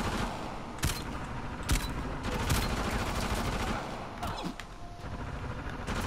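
Bursts of gunfire in the video game Uncharted The Lost Legacy on PS4, several sharp shots cracking over a dense, continuous battle din that stays loud throughout with no clear talk.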